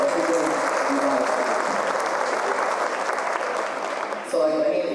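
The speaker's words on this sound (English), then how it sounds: "And one round of applause for our teachers, please" Dense, sustained audience applause for teachers at a school awards event, loud and steady throughout with crowd noise and a brief dip near the end.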